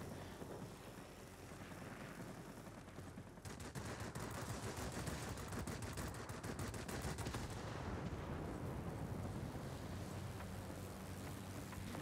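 Ship guns in World of Warships fire nonstop in a dense, rapid barrage that kicks in after a few seconds and keeps roaring without pause to the end.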